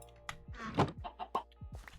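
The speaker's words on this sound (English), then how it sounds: "Now our 2 newest chickens are in there, and hopefully we'll get a couple eggs from them that way." Chickens clucking in the video game Minecraft, StoneBlock modpack: a quick string of short, close clucks and squawks mixed with a few soft thunks, with no talking.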